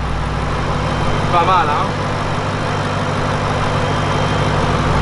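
Ford Mustang engine with a custom exhaust idles steadily in a low, continuous rumble, with someone talking briefly over it.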